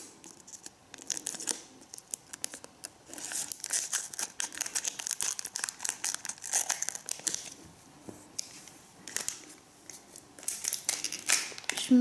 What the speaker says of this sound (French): Là, j'ai la paire de ciseaux.